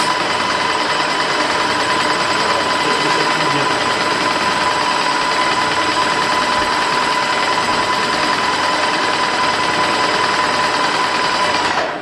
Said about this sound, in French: j'allume, je mets de la pression et j'appuie sur le pistolet ici